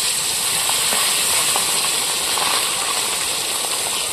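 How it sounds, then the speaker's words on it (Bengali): Small fresh river kajli fish frying in hot oil while cooking outdoors in a village garden, a loud steady close hiss with faint crackles, continuous and without talk. "দেখুন তেলটাও গরম হয়ে গেছে, মাছগুলো ভেজে নেব।"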